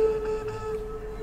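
A steady, dark, hollow organ pipe tone holds faintly throughout, soft and muffled with few bright overtones.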